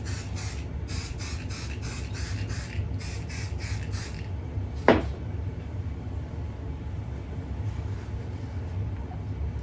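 Temporary adhesive hisses from an aerosol can onto quilt batting in a rapid series of short bursts, close and steady, then stops, followed by a brief clack and quiet room hum.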